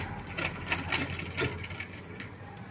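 A sewing machine stitches slowly with short, small stitches, giving a quiet, uneven run of soft mechanical pulses that stop and start.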